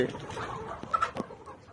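Faint, busy clucking from layer hens in a coop, low and murmuring, with a couple of sharper calls standing out.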